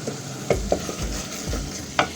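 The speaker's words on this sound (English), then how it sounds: "I'm going to crush the tomatoes which are yet to be" Tomatoes for an egg curry are pressed and stirred in a hot pan under a steady sizzle, with several sharp scraping knocks of a utensil against the pan.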